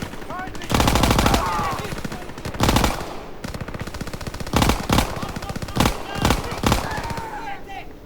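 A Thompson submachine gun firing in a video game: several loud bursts of rapid automatic fire separated by short gaps, close up, with faint game sounds between the bursts.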